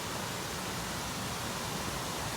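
A steady, soft rushing roar of Abrams Falls heard from about half a mile away, unbroken and even throughout, with no other sounds on top.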